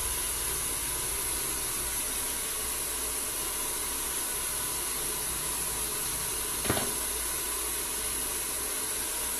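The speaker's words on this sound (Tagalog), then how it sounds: "Baka mainitan yung mukha ko ng blower." A hair blower runs continuously with an even, close rushing hiss that barely changes, broken only by a single brief click partway through.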